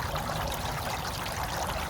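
Steady water rushes and splashes through the plumbing of an outdoor hydroponic system, a constant, fairly close flow with no pauses and no voices.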